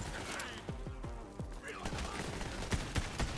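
A sniper-like pistol in the video game Borderlands 3 fires a fast, irregular string of sharp shots, mixed with other gunfire and explosions in a dense, busy battle soundscape.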